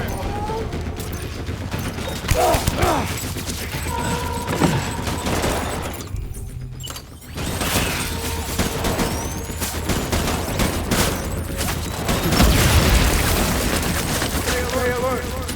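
Bursts of automatic gunfire rattle through a firefight in Death Stranding Director's Cut, loud and sustained with a short lull midway, mixed with impacts and some voices.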